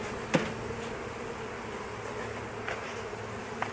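Honey bee swarm buzzing as it is moved to its new home in an apiary, a dense continuous hum close by with a few louder individual bees passing near.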